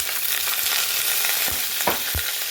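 Browned meat fries in a couple tablespoons of oil in a pot for South African potjiekos, a steady close sizzle with a few scraping stir knocks near the end.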